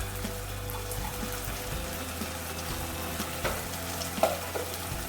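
Chopped tomatoes and kalonji seeds go into a pan of frying potatoes for spicy aloo bhujia, bringing a steady sizzle with stirring scrapes and a few clinks, with no talking.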